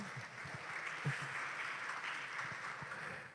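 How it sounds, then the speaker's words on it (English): A crowd applauds steadily, a dense wash of clapping hands filling the room at moderate volume. "please give a big applause to the Prof."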